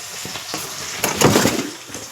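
Sliced onions and a small tomato fry in the leftover oil of a kadai after fish was fried, giving a steady sizzle that surges louder midway with stirring scrapes, no voices.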